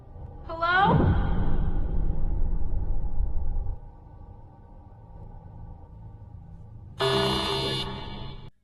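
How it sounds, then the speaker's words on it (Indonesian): A loud warning alarm from a film sounds as a harsh electronic blare with a falling sweep, then a rumbling stretch, and later a second piercing burst lasting about a second and a half. "namun alarm yang sangat keras terdengar"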